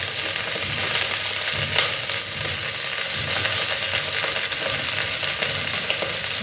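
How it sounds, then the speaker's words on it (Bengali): Mung dal with vegetables and broad bean seeds frying in a pan, a steady, dense sizzle that carries on without pause, with faint stirring scrapes mixed in and no voices. "মুগ ডালে দিয়ে এটা সব তরকারি দিয়ে রান্না করছি"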